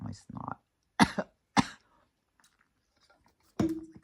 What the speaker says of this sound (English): I'm choking on my snot.